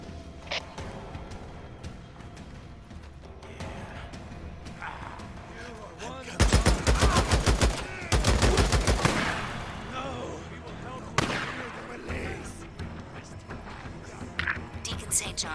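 Gunfire from the video game Days Gone comes in loud rapid volleys of shots in the middle of the clip, then a single sharp blast follows. Game ambience and quieter sounds fill the stretches before and after.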